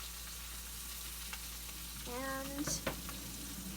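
Sandwich pieces frying in a pan give a steady, close hiss. A brief voice and a few light clinks come near the end.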